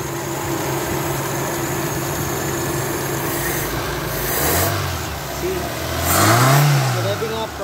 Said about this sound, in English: Now the engine is working properly